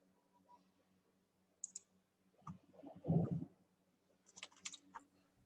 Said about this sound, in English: Sir, I'm typing, just a second.